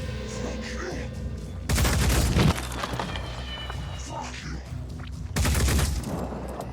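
Bursts of gunfire in the turn-based strategy video game Phoenix Point, two loud broadband volleys of rapid shots about four seconds apart, with game ambience and some background voice between them.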